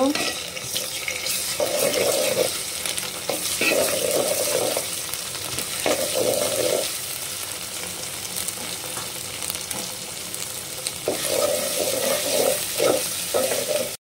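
Ground spice paste fries and is stirred in a pan, producing a continuous hissing sizzle with repeated scraping, splashy bursts from stirring, fairly close and loud.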